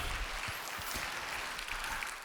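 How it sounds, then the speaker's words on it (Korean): A church audience at a lay training graduation ceremony claps to welcome the senior pastor, a brief, even burst of applause of moderate loudness. "우리 박수로 모시겠습니다"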